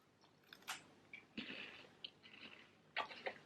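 Crispy coconut rolls bitten and chewed up close, a few sharp crunchy snaps followed by quieter chewing crackles, faint and intimate with no talking.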